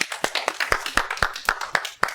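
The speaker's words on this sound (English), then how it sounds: "let's give the brothers and the father a big round of applause." A small audience claps along in a quick, steady rhythm of sharp hand claps, roughly four per second, fairly close and with no talk over it, after a Bible story about Joseph and his brothers.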